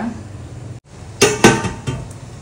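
A lid set down over a pan of sautéed kurdu wild greens on a home stove: a sharp metallic clink after a brief hush, followed by a couple of lighter rattles, close and clear with no talk.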